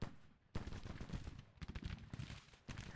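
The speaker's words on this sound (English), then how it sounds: "The artillery is still firing." During a Civil War battle near Murfreesboro in Grand Tactician: The Civil War, artillery fires in loud, close bursts. Repeated cracking volleys and rolling booms cut in abruptly, with short near-silent gaps between them.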